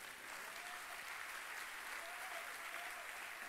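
Church congregation at a Sunday Easter service applauding together, a steady dense clapping that fills the whole stretch at an even level with no pauses.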